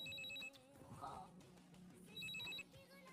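A telephone bell rings in two bursts of electronic trilling, near and clear, with a pause between them while faint background voices and music murmur underneath.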